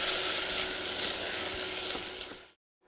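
Garlic and ginger sizzle loudly in a pan for ramen, a dense close frying hiss with a few faint stirring scrapes that stops abruptly near the end.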